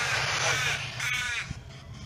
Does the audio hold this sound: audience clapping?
no